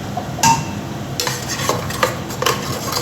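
Onions and tomato paste being fried in a pan, a close, loud sizzle punctuated by a metal spoon scraping and clinking against the pan in quick, repeated stirring strokes.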